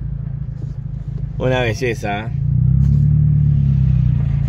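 A car's exhaust rumbles low and steady close by, swelling louder after a short spoken phrase cuts in over it.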